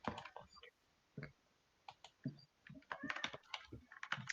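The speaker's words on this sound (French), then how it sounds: "j'entends que ça pianote sur les claviers" Computer keyboards clatter in bursts of quick, light clicks, pausing briefly before resuming in a denser flurry of keystrokes, all fairly faint with no talk over them.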